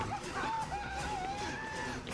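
A rooster crows in the horror video game Outlast, a single drawn-out, wavering call heard close over a noisy background.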